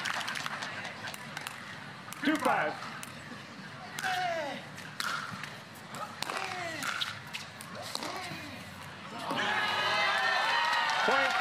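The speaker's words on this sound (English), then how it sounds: "The crowd loves that one." At a tennis final, commentators talk over scattered claps and stirrings from the crowd. It builds into a broad burst of cheering and applause near the end.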